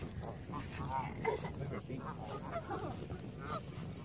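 Geese being fed outdoors give several short, close honks scattered across the clip, mixed with people talking and other background noise.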